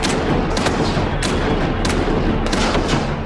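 A volley of musket fire from soldiers in a period battle reenactment, with several sharp cracks and booms in quick, uneven succession over a dense, loud background.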